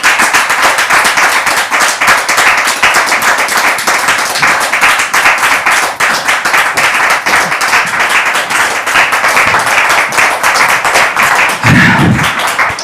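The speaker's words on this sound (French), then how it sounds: "Merci de les recevoir sous vos applaudissements" A television studio audience gives sustained, dense applause as a married couple enters, loud and even throughout, with a brief low thump near the end.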